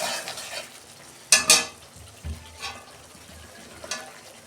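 Spices sautéing in oil for a curry in a home kitchen pan, with a soft sizzle broken by a couple of sharp scraping stir strokes, then quieter intermittent stirring.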